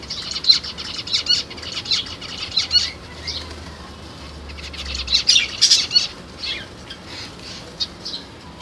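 A male zebra finch chases a female, with loud close wing flapping mixed with repeated short high chirps and squawks from the birds, no voices over it.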